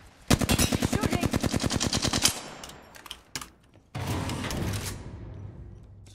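Automatic weapon fire in the video game Apex Legends: a rapid, steady burst of about twenty close, loud shots, then two single thuds and a second stretch of dense, noisy firing that fades out.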